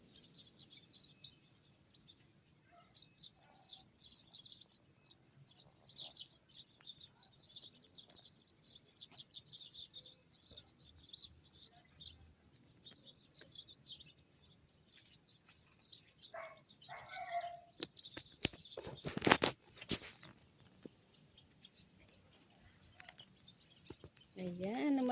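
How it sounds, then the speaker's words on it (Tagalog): Small birds chirp and tweet in short bursts across a rural yard in the Philippine countryside, with scattered calls throughout and a louder flurry near the end as the flock takes off; faint talk sits underneath. "nakatingin lang ako sa mga ibon"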